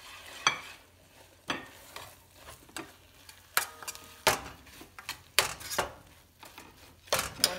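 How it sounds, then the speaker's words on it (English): Almonds being stirred into a cake mixture for a Bienenstich, with a series of sharp scraping and clinking strokes against the bowl at an irregular rhythm, close and fairly quiet between strokes. "We're going to stir that around."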